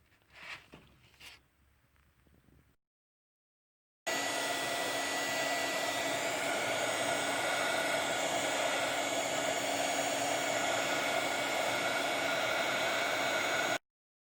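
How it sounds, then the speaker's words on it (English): Heat gun blowing a steady, loud, continuous rushing whoosh for about ten seconds while drying matte gel medium on a stenciled craft piece, after a few soft handling sounds and a brief silence. "the matte gel medium is now dry because I dried it with my heat gun"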